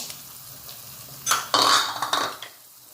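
A spoon stirs broccoli and cauliflower in a pan for chop suey: soft scraping and clinking strokes, with a couple of louder sweeps in the middle, close by with a faint sizzle underneath.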